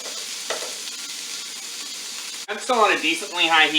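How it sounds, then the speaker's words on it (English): Beef and broccoli stir-frying in a hot pan on high heat, a steady close sizzle and scrape of stirring, with a voice speaking over the frying in the second half. "With that all stirred together, I'm still on a decently high heat."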